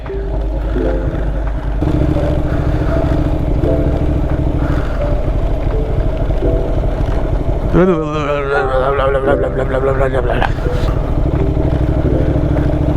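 A motorcycle rides in first gear on a solo camping trip, its engine droning loudly and steadily up close with wind rumble, a voice briefly exclaiming partway through.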